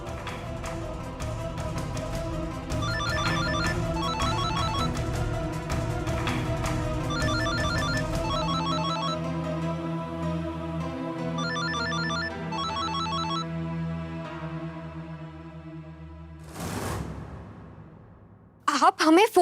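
A telephone rings unanswered, with repeated electronic trilling bursts in a steady pattern over a sustained musical drone, ending with a whoosh and sharp hits.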